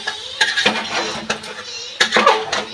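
Yogurt-marinated chicken is tipped into a pot for biryani and stirred, with close clanks and scrapes of a spoon against metal coming in short bursts.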